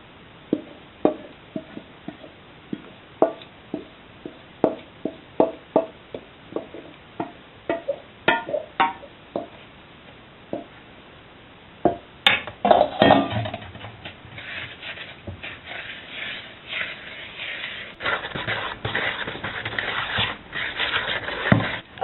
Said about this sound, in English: Let's mix our wet into our dry.